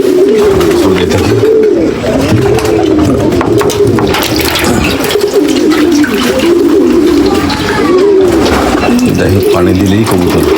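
A flock of racing pigeons coos at a home loft, with continuous close, loud, overlapping throaty warbling throughout.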